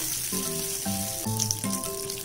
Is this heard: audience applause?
no